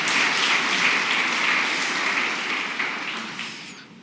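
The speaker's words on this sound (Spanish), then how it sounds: "Dale un aplauso y celebra a ese Dios Jireh que provee." Dense, steady applause from a church congregation during a Spanish-language service, a continuous wash of many hands clapping that holds loud for several seconds and then tapers off near the end.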